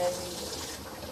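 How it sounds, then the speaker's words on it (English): Running tap water pours steadily over leafy greens being rinsed for a Kenyan mokimo salad, a close, continuous splashing hiss with no pauses. "I'm just gonna put this under the water and try to clean this"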